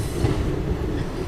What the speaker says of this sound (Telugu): సో మన ట్రైన్ వచ్చేసి జనగాం నుంచి అయితే బయలుదేరిపోయింది